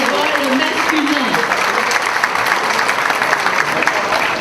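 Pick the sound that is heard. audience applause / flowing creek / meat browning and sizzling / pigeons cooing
audience applause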